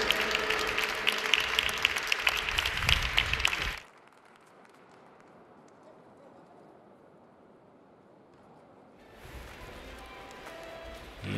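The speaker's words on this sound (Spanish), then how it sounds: "Medalla de plata, fuerte también aplauso para Rocío, para Nuria y para Pilar." At an archery championship, a crowd applauds the silver medal team in a women's compound team final with dense, loud clapping. The clapping drops away to quiet room tone, then swells back.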